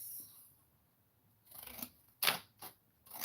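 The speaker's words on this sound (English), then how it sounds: "I really like these scissors. They really have made these cards like give them more of a shape." Scissors snipping watercolor business cards, a few short crisp cuts with brief blade slides, close and fairly quiet, separated by near silence.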